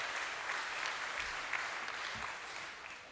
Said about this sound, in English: Now you should be applauding that and saying thank you for